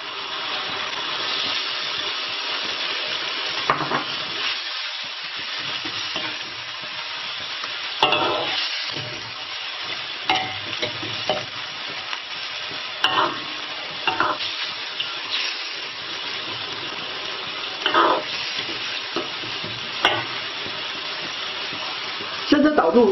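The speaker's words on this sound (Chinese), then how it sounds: "接着倒入地锅酒" Diguo wine is poured into a hot wok on a rural wood-fired earthen stove, setting off a loud, continuous sizzle with scraping stir-fry strokes and clatter recurring throughout.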